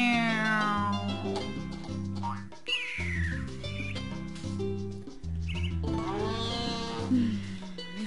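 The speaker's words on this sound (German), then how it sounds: "Katze, ich hab sie miauen hören." A cat meows in the video game Harvest Moon: A Wonderful Life over background game music, with several short mews scattered across a looping melodic tune.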